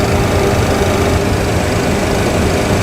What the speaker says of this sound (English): Wait for the APU to start,